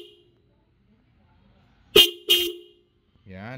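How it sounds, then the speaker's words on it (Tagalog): A Denso Compact Horn on a scooter gives two short, loud honks in quick succession, followed by a brief partial third toot after a pause, with quiet surroundings between. "Denso Compact Horn"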